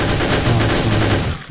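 Grenade blast in Soldier of Fortune II: Double Helix, a loud, sustained roaring burst with crackling rumble that holds steady for over a second before cutting off.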